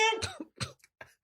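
A single person coughs a few times in quick succession, close and fairly quiet, with a short throaty burst followed by smaller breathy coughs.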